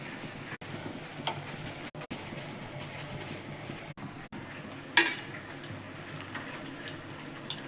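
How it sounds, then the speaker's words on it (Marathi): Cucumber vadas fry in oil with a quiet, continuous sizzle and a few faint clicks, with no one talking. "असा तेलामध्ये तळून घ्यायचं"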